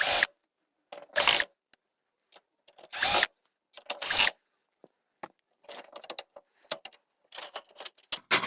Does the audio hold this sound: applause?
no